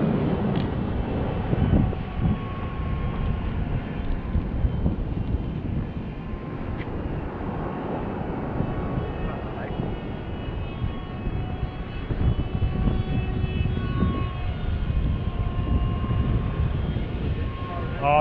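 A Freewing F-35 RC model jet whines and roars through the air with steady engine noise and wind buffeting, while people talk nearby throughout.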